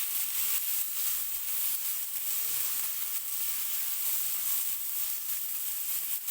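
Finely chopped capsicum sizzling in a hot pan: a steady, bright, continuous hiss of frying with no pauses or voices, moderately quiet throughout.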